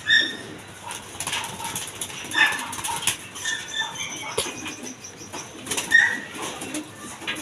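Racing pigeons in a loft, wings fluttering and flapping in scattered bursts with occasional soft cooing and chirps, moderately close amid faint background noise.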